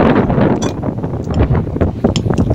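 Strong gusty wind buffets the microphone with a loud, continuous rumbling roar that swells and dips, with no voices.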